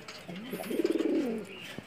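A racing pigeon coos nearby, a soft low throaty call with a quick rolling pulse in the middle, heard alone against faint background noise.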